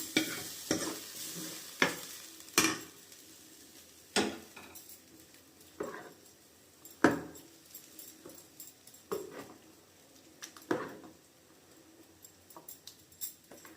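A spoon mixing a tempering into curd rice in a pot, with repeated scraping and clinking strokes at a slow, uneven rhythm and quiet pauses between them, up close and alone.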